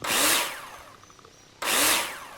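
A power drill bores into metal profiles in two loud bursts, the first fading away and the second starting abruptly after a short lull.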